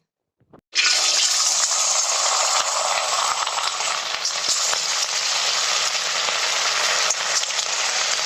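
Vadas for a fasting thali drop into hot oil with a sudden loud sizzle that holds as a steady, bright frying hiss for several seconds, with faint crackles scattered through it.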